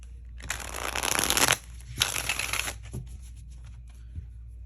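A deck of tarot cards is shuffled close by, two long riffling bursts followed by a few soft taps and shuffles, with no voice.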